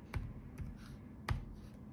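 Keys on a computer keyboard tapped at a Windows installation command prompt: three quiet, distinct clicks spaced over two seconds, close and soft with no talk.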